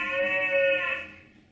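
Recorded cow moo played back through the speaker of a Dash toy robot, a single tonal, slightly bleating call of about a second that trails off, heard alone.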